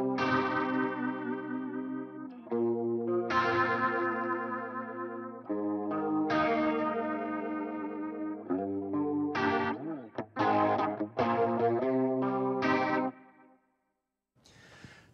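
Electric guitar played through a Line 6 Helix effects processor, with distortion, chorus and echo on sustained chords and quick riffs, loud and close, ending in a short silence and a final strum.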